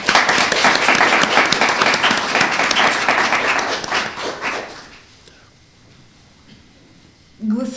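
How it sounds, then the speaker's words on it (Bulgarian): An audience at a debut book presentation claps steadily for about four seconds, the dense applause thinning and fading into quiet, before a brief burst of nearby sound at the end. "Аплодисменти, моля."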